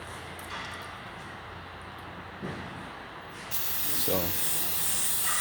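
Cleaning solution sprayed onto the comfort-grip handles of a US General 5-drawer tool cart, a soft hiss that swells into a louder, steady spray near the end.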